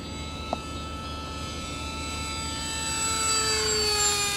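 A forward-swept-wing model airplane with winglets and canards flies past, its small engine a steady whining drone that grows slightly louder and shifts pitch as it passes overhead, with no talking.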